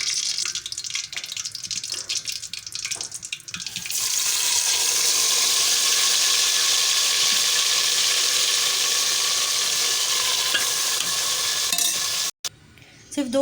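Mutton coated in masala marinade hits hot oil. Quieter stirring and clinking give way to a loud, sustained broadband sizzle that fills most of the span before cutting off abruptly near the end.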